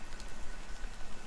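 Steady rain patters across a surface in Honkai Star Rail, a dense hiss of drops that holds even and close for a brief moment without any voices.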